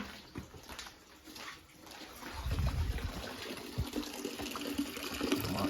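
Melted beeswax drains out in a low, continuous gush that swells after a quiet start and keeps flowing steadily, close by, with no talk.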